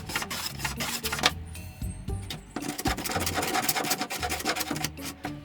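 Burnt wood surfaces are sanded by hand in a run of rough, scratchy rasping strokes, loud and close, with short pauses between passes.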